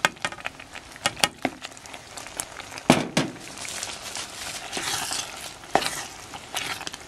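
Young coconut (buko) is stirred and cooked in a pan for ube buko pie filling, with irregular spoon scrapes and knocks over a light sizzle, close and moderately loud.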